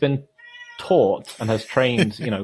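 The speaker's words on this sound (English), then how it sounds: "I don't know if you can hear an extremely mournful cat in the background" A mournful cat meows in the background, drawn-out wavering cries mixed in with someone talking nearby.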